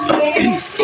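Green chilies and tomato pieces being stirred into horse gram rasam in a pot, brief scraping and swishing of a spoon with a light sizzle, close and fairly soft.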